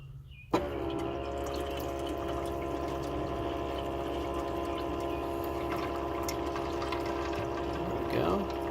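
A 12-volt pump on direct voltage switches on and runs steadily, cycling water through a water-to-air intercooler setup, with a continuous hum and whir that holds at an even level after a sudden start.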